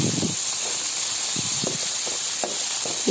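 Tomato sautéing in a pan for a horse gram curry, a steady hiss and sizzle broken by soft scraping and stirring bursts at irregular intervals.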